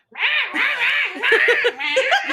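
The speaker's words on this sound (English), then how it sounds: "You don't like the rat fighting noise?" Rats fighting in a movie scene, loud squealing and shrieking in overlapping bursts, sustained and close.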